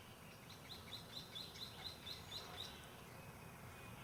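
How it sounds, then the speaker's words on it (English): Faint, rapid series of high chirps from a single bird repeating about ten times, then fading, over a quiet, soft background hush in a Southern California garden. "Not a sound, just the birds."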